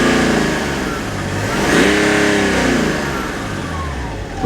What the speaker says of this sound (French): on va juste un peu appuyer sur l'accélérateur